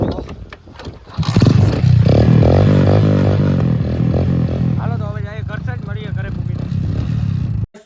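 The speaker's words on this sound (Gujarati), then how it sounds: "હોન્ડાનું સાયલેશન જોવી લ્યો અવાજ" A Honda motorcycle engine idles and revs nearby, its silencer exhaust rumbling loudly and steadily, with a voice speaking over it.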